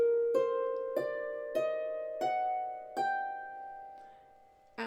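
Harp notes in the G harmonic minor scale are plucked one at a time, about six tones stepping upward at an even pace, each ringing clearly and fading before the next.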